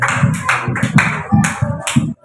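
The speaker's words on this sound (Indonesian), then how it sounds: "Tepuk tangan untuk Rafali" Applause for a contestant named Rafali at a preaching competition (Tarbiyyatul Muballigh top ten), a short run of close, rhythmic group clapping that ends abruptly.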